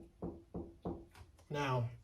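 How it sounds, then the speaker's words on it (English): Three evenly spaced knocks sound in an empty basement, hollow and fairly close, followed by someone talking. "Ain't me knocking on shit."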